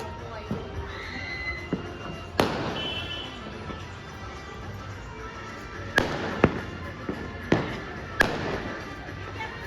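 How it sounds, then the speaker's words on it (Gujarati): Fireworks for the Uttarayan (Makar Sankranti) kite festival pop and crack at a distance in scattered bursts, heard from a rooftop terrace, several sharp bangs separated by pauses over faint background noise. "હવે આતશબાજી થાય છે એ અમે જોઈએ છીએ"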